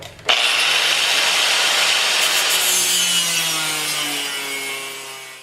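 A saw cuts through wood for axle plates on a chicken coop wheel kit, a sustained rasping stroke starting abruptly and running close and loud, slowly tapering toward the end.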